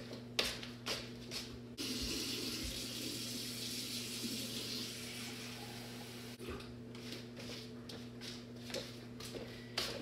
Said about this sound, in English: I just use hot tap water because that's not warm enough to kill the yeast